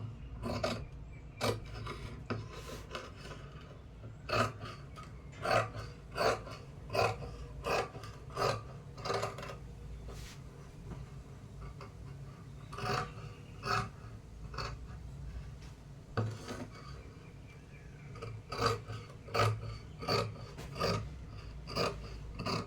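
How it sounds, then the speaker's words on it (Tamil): Scissors cut through blouse fabric in a series of close, crisp snips. They come in short irregular runs with brief pauses between them, over a faint steady background hum, and nobody talks. "இப்போ அந்த பீஸை வந்து நம்ம வந்து கட் பண்ணி எடுத்துக்கலாம்."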